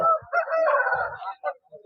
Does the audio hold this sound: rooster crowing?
yes